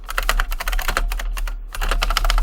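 Fast typing on a computer keyboard, a dense run of close, crisp key clicks with a short pause midway before the tapping resumes.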